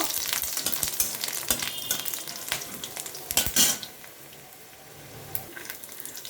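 Whole garlic cloves frying in oil on lowered heat, a steady crackling sizzle with occasional sharper pops and spatters, close and continuous throughout.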